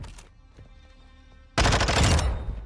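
Rapid automatic gunfire in a firing range in the video game Modern Warfare 2: a quiet lead-in, then a sudden loud, dense burst of shots that fills the last second of the clip.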